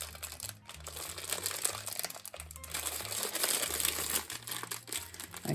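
Plastic bag full of small charcoal grill screws being handled up close, with crinkling plastic and light clicking of little metal parts in irregular bursts, and no talking.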